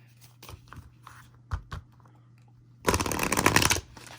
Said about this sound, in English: I'm going to pull some Oracle first, some Oracle cards to get this thing going.